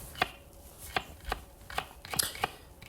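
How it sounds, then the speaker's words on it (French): A knife chops celery into small pieces on a cutting board, about eight crisp, evenly spaced taps, close and fairly quiet with no talking. "maintenant, je coupe le céleri en petits morceaux"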